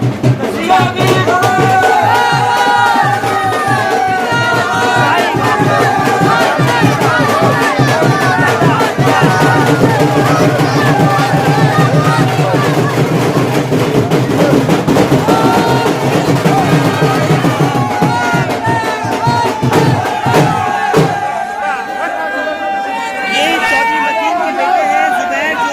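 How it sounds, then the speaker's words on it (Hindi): A large crowd fills a street during a rally for filing a nomination, with dense chatter and shouting from many voices, loud and continuous throughout, thinning slightly near the end. "बड़ी तादाद में भीड़ है।"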